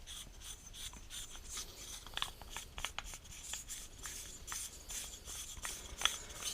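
Faint gritty rubbing and scraping of an end cap being unscrewed from a Stoeger M3000 shotgun magazine tube, with short rasping turns and a few small clicks, close up and quiet.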